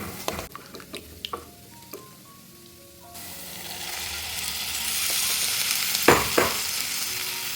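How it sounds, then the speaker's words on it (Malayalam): A few clinks and taps, then a loud steady sizzle swells up as squeezed tamarind juice hits a hot pan of bitter gourd curry, with a couple of stirring knocks near the end. "ഇനി ഇതിലേക്ക് പുളി പിഴിഞ്ഞ് ഒഴിച്ചു കൊടുക്കാം"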